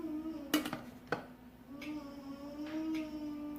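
A lid is set onto a Thermomix mixing bowl: a few sharp, close clattering knocks of hard kitchenware over a steady low appliance hum, followed by a faint softer clink.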